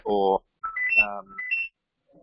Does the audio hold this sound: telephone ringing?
yes